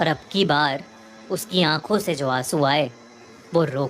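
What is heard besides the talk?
None of the usual background noises is heard.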